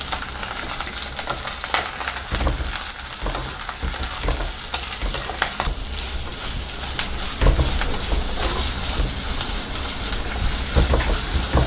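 Onions and curry leaves frying in a pan for a village-style mutton kuzhambu, a steady loud sizzle running the whole time with scattered crackles and pops, no voices.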